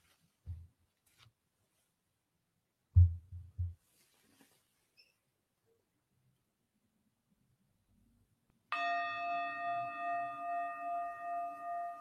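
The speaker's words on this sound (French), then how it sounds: "La méditation va débuter au son du gong." A gong struck once to open a guided meditation, its shimmering tone sustained and slowly pulsing after a few quiet soft knocks and near silence.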